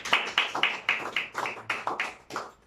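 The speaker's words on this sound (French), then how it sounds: "On applaudit pour le leader." Around ten separate hand claps, evenly spaced and fairly close, come from a small audience applauding a speaker at a business presentation.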